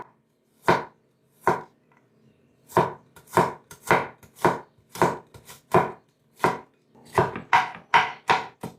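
Garlic cloves sliced with a knife on a cutting board in a home kitchen: sharp, close knife chops, first spaced singly, then in quicker bursts of several strokes, with no voices.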